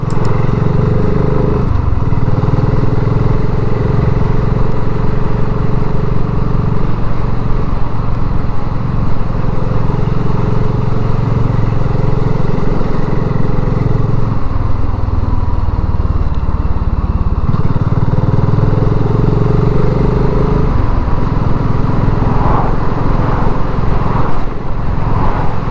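A motorcycle rides along a country back lane toward South Milford, its engine loud and close throughout, with the pitch rising and falling as the rider shifts and slows for turns; no one speaks.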